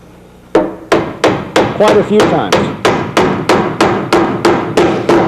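Hammer driving nails while assembling shelving, about fourteen sharp, evenly spaced strikes ringing close and loud, with a brief spoken reply partway through.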